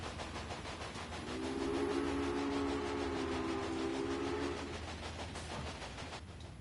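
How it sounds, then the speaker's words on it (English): A steam train in the video game Railway Empire runs continuously with a steady rumble, a sustained whistle-like tone rising over it in the middle, dense mechanical noise throughout. "Your train is now traveling between Omaha and Norfolk."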